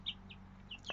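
Three hens and two roosters in a backyard flock give off a few short, faint clucks and chirps in brief bursts, with a slightly louder call near the end over a low background hum.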